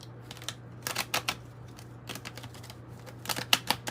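An oracle card deck is shuffled close by, with bursts of crisp riffling and card clicks separated by brief pauses over a faint steady hum.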